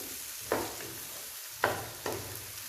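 Potatoes and cauliflower sizzling in a pan, with a few stirring scrapes breaking through the steady frying hiss at irregular moments.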